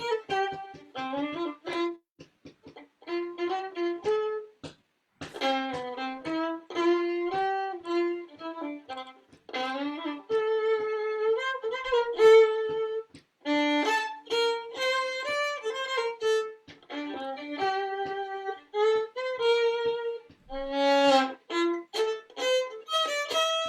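Fiddle playing an old jazz standard as a lively, continuous melody with bowed slides and double stops, close and clear throughout with no talking.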